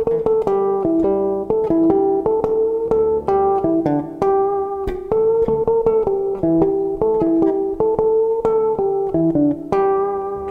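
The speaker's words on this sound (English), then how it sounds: "So he's using pinched harmonics there just to create this little melody." Electric bass plays a riff using pinched harmonics, giving a steady run of bright, bell-like plucked notes that form a small repeating melody, close and clear throughout.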